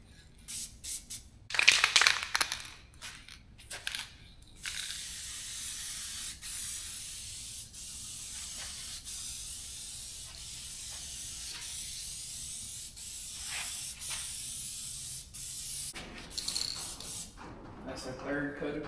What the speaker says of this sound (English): That's our third coat of clear.